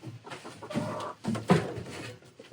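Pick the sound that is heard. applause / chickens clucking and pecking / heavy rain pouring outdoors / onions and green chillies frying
chickens clucking and pecking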